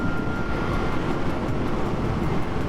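A Kawasaki ZH2 SE motorcycle roars loud and steady as the rider downshifts and gives it throttle, a dense continuous rumble mixed with wind rush and no speech.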